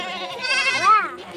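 A goat bleats once in a wavering, drawn-out cry with rising and falling pitch, heard fairly close over faint background noise.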